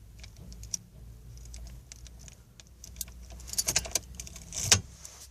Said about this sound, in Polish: trzeba wsadzić do stacyjki nacisnąć guzik blokady